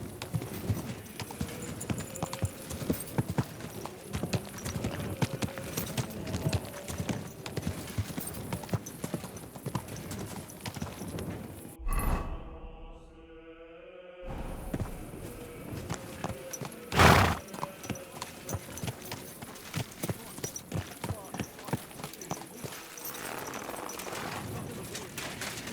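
Horse hooves clip-clop steadily in the medieval game Kingdom Come: Deliverance II, a close, rhythmic trot that runs almost throughout, broken by a brief quiet pause and a loud thump, with faint birds in the background.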